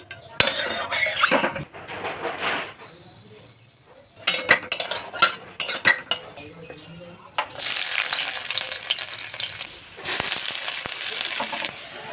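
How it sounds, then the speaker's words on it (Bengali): Yard-long beans and potato fry in a pan with clattering utensil scrapes and stirring, then a louder continuous sizzle takes over near the end; no talk. "বরবটি আলুটা ভাজতে দিয়ে দিলাম"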